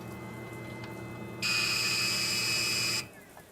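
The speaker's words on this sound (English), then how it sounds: "That beeping noise you hear is telling me that my batteries need charging." A power inverter in an off-grid Alaska cabin sounds a steady high-pitched low-battery warning tone. The tone lasts about a second and a half, loud and close, over a low background hum.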